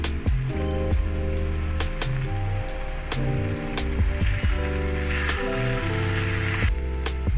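Ghee sizzles and crackles steadily in a pan of ash gourd and katla fish-head muri ghonto curry, a continuous frying hiss beneath loud background music with a melodic line.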